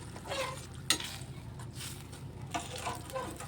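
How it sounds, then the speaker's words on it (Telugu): Water poured into a hot pan for an aloo matar masala curry gravy bursts into sizzling and hissing, followed by stirring scrapes and bubbling. "ఇప్పుడు మనం సరిపడా కొద్దిగా వాటర్ వేసుకుందాం గ్రేవీ కోసం"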